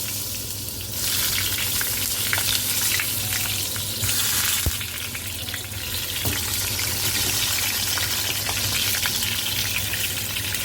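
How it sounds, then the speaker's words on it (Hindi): Eggplant (brinjal) shallow frying in a pan on a gas stove gives a loud, continuous close sizzle, with brief dips and a sharp click partway through. "हम इसे शैलो फ्राई कर रहे हैं।"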